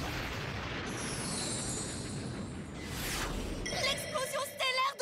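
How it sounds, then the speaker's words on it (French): A Beyblade Metal Fusion anime explosion effect for Pegasus's star blast: a sustained roaring burst with a rising whoosh, followed by bright ringing, shimmering tones near the end. "L'explosion stellaire de Pegasus."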